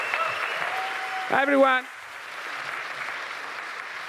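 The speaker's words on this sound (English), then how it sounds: "please, another round of applause" A conference audience applauds the speaker, a soft wash of clapping that continues under a brief spoken greeting and then fades away.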